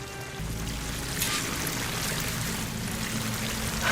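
A waterfall in Horizon Forbidden West rushes steadily throughout, a loud, continuous wash of falling water layered over a low, sustained musical drone.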